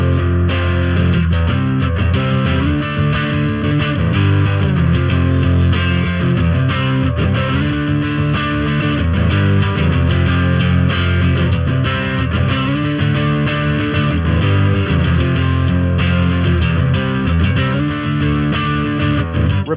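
A loud, heavily distorted electric guitar plays sustained chords continuously, thick and saturated throughout, with no voices.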